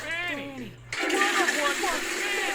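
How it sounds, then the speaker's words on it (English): A toilet flushes with a sudden rush of gushing water that swells and runs steadily, close by, with a person's voice audible over the start of it. "Flush one for Fanny."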